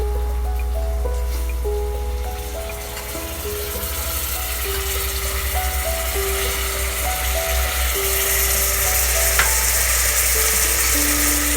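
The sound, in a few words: brinjals frying in pan for Parsi dhansak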